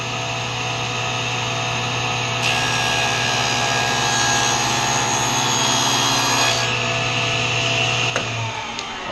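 A power saw blade cuts a dado in wood on a table-saw setup, a steady loud motor whine with a harsher cutting rasp rising in the middle and stopping near the end.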